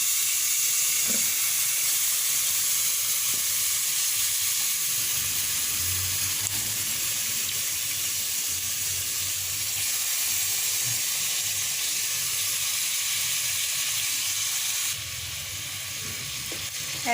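Marinated lemon pepper chicken pieces spread in a single layer in a non-stick pot sizzle with a steady, bright hiss throughout, close and continuous with no talking.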